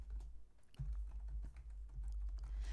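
Quick, irregular clicks of fingers typing dates into a spreadsheet on a computer keyboard, close and fairly quiet over a low background hum.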